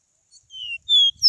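A caboclinho seedeater sings in the scrub: a few thin, high whistled notes, the clearest one sustained near the end, close and otherwise quiet.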